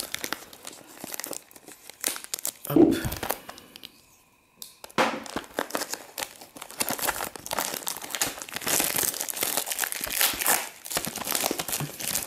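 Plastic wrapper on a sealed Naruto trading card box crinkles and tears as it is opened, close and loud in bursts with a brief quiet gap midway, then continuous rustling crackle.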